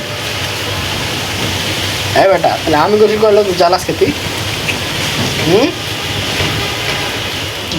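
Heavy wind-driven rain pours and splashes as a steady, loud hiss throughout, while someone talks over it in the middle.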